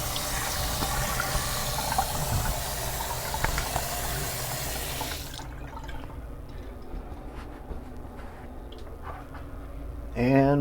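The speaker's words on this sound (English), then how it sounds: "This will give me a chance to put the cold water on my face." Cold water from a running tap is splashed onto a face during a shave, steady loud splashing and streaming for about five seconds, then quieter drips and handling, ending with a brief burst of noise.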